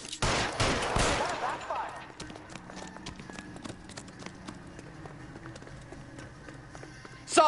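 A burst of gunshots rings out in a shootout in L.A. Noire, loud at first, followed by scattered fainter shots and clicks over a quieter background.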